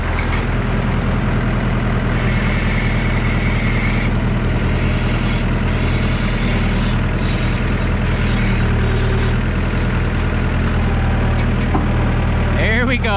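A Massey Ferguson 3165 tractor engine runs loud and close with a steady diesel rumble, rising and falling slightly while working with its bucket, with voices talking over it.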